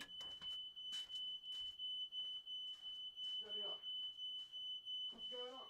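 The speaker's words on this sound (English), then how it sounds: "Smoke alarm's going off." A smoke alarm goes off indoors, giving a shrill, steady, rapid beeping that continues throughout while people talk over it.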